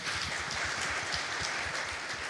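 A church congregation at a worship night bursts into loud, sustained applause, dense overlapping clapping filling the hall steadily throughout.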